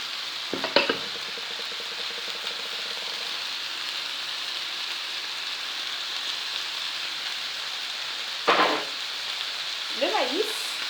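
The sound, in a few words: minced meat frying in a pan for a Mexican quiche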